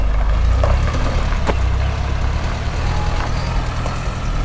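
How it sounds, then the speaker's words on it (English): A farm delivery truck loaded with produce pulls away at dawn, its diesel engine rumbling low and steady close by. "truck number 1 heading to Columbus"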